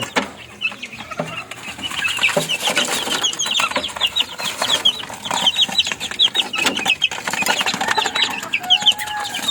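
Chickens cluck steadily in a busy farmyard, a rooster among them, overlapping calls near and far, with scratching and shuffling noises underneath.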